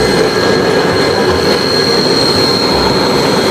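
A toy train plays a steady train sound effect, a continuous rumbling and whining rail noise with high tonal hums, loud and unbroken throughout, with no talking.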